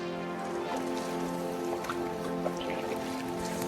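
Rain from a passing cloud falls during a raft trip on the Indigirka River, a steady dense patter of drops over a constant low droning hum, even and unbroken throughout.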